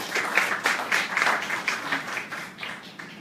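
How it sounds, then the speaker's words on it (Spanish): Audience applause for the members of a law panel at an academic event on the centenary of the Federal Constitution, a steady run of many hands clapping with slight swells, moderately loud and without speech. "pido para los integrantes de esta mesa un fuerte aplauso"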